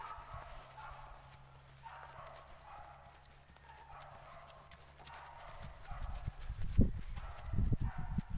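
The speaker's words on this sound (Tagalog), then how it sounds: "Hirapan ako sa kabayo." Horse hooves clip-clop at a steady, repeated rhythm along a trail, fairly close and growing louder and heavier toward the end, with some low rumbling underneath and no speech.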